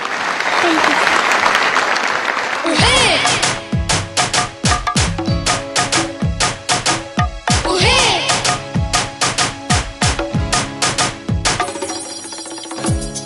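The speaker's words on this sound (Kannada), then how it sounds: "1 2 3 ಚಪ್ಪಾಳೆ" A live audience bursts into loud, dense applause during a Kannada stage performance of a Vishnuvardhan film song, then shifts into steady rhythmic clapping in time alongside the music and voices.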